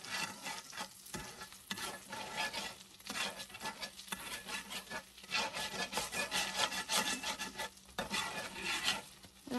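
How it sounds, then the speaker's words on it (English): Scraping and stirring across a frying pan to loosen browned pork chop bits, repeated rough rubbing strokes in an uneven rhythm over a constant sizzle, close and fairly loud, with no talking. "I'm scraping this pan just to get all those little bits of pork chop."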